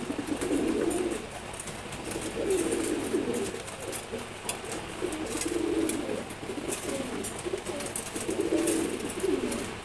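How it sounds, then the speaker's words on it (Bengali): A pair of maxi racer pigeons coo close by, low throaty calls repeating in rhythmic bursts over a light background hiss, with no talking. "নর কবুতরটাকে দেখেন, খুবই সুন্দর কবুতর"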